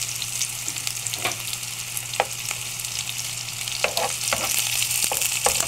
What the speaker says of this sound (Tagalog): Tapos yung sibuyas, tutuin nyo lang po maigi. Igisa.